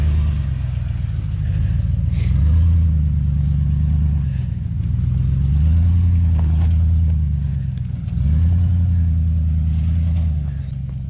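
A two-wheel-drive pickup truck's engine revs hard in three long surging pulls while climbing a hunting trail, loud and close, with rising and falling pitch and brief pauses between climbs.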